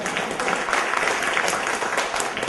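A crowd claps in continuous, dense applause for the whole stretch, steady in loudness with no voices standing out.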